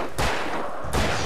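Two loud, sharp gunshots from the Alan Wake video game fire about 0.7 seconds apart, each a broadband burst with a short decaying tail, heard alone with no talking.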